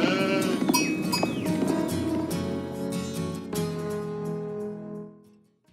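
Sheep bleat loudly and close up in a short run of calls, with a bell clanking, before the sound fades away at the end.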